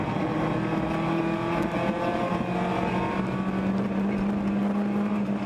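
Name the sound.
race car engine getting back into gear on track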